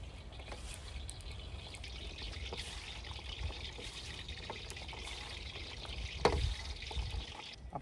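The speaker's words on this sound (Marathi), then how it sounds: "आपण आता भेंडीवर हलका पाण्याचा शिपका मारून घेऊ" Water is lightly sprinkled over okra already mixed with masala, black salt and gram flour for a dhaba-style dahi bhindi; soft trickling and pattering splashes run throughout, a little louder near the end, with no talking.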